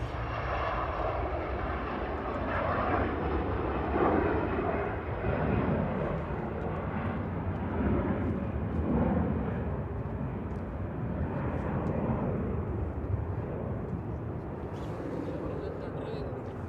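Airbus A380 pushing back at Manchester Airport, a steady broad engine rumble and airport ambience running continuously at moderate distance, with a voice talking over it.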